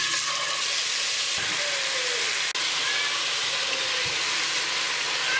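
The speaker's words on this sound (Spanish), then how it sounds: "Lo que vamos a hacer es agregar el pollo." Chicken frying in oil in a pot over low heat for Puerto Rican asopao de pollo, a steady, loud sizzle and hiss that runs continuously with a few soft clunks of the pieces going in.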